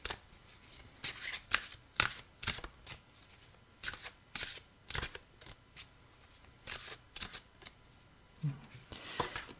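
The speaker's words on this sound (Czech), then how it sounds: "vytáhnu pátou kartu od spodu, až domíchám" Deck of angel gemstone oracle cards being shuffled by hand in short crisp riffling bursts, close and fairly loud, repeating irregularly with brief pauses between.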